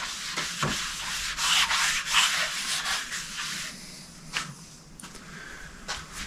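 Steady hand sanding strokes of 400 grit sandpaper across a tub panel, close and continuous with a rhythmic back-and-forth scrape, no talking.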